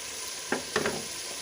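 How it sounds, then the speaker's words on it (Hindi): Spice masala frying in a pan while chicken feet are prepared, a steady soft sizzle hiss with a few brief stirring scrapes rising above it, quiet and close. "हम 7 से 8 मिनट तक मसाले को अच्छी तरह से भून लेंगे।"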